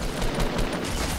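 Rapid gunfire in the Fortnite video game, a dense burst of fast repeated shots lasting a brief moment, loud and continuous with no talk.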